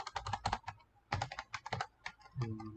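Rapid bursts of typing on a computer keyboard while writing PHP code, uneven clusters of clicky keystrokes with short pauses between, close and clear with no talking.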